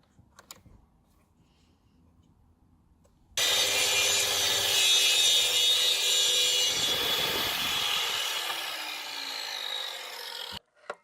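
Erbauer plunge saw cutting through wood, a loud, sustained rasping whine starting abruptly, holding for about seven seconds, then cutting off sharply, with quiet handling noises before.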